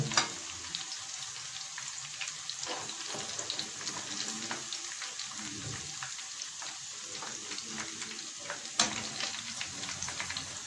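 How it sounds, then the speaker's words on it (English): Fish pakora frying in hot oil, a steady close sizzle and bubbling that runs throughout with a few sharp crackles and pops, no voices. "Now the fish is well fried."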